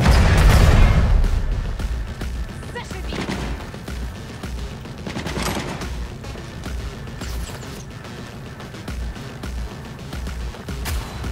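Bursts of rapid gunfire with booming impacts and explosions in Cyberpunk 2077, loud at first then continuing in irregular volleys against a rumbling background.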